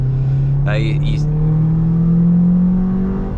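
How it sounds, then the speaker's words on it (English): An 18,000-mile car engine hums steadily up close, its pitch rising slowly as it revs with a throttle body sound, with a brief voice-like sound briefly cutting in early on. "It's just got a great little throttle body sound to it."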